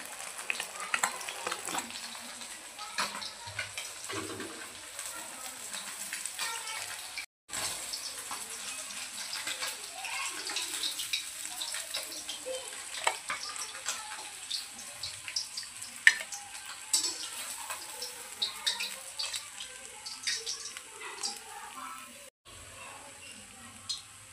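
Chilapi fish pieces fry in a pan with a steady, bright sizzle and crackle running throughout, moderately quiet and close, broken by two brief cutoffs.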